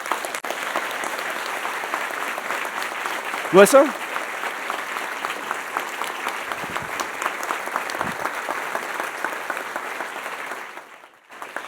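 Sustained applause from a sizable audience at a University of North Dakota State of the University address fills the room for several seconds, with a voice briefly calling out partway through before the clapping fades.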